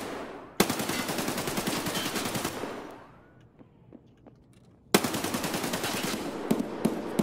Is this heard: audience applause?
no